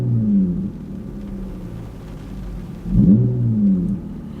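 Jeep Grand Cherokee fitted with a Corsa exhaust, heard from inside the cabin: a steady low engine drone that swells briefly into a louder rev partway through, with no talking.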